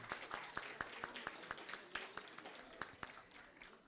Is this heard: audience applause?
yes